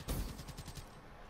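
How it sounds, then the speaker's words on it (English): Gunfire in Black Ops 3, a rapid burst of several close, punchy shots in quick succession that fades out within about a second. "Fucking shotgun."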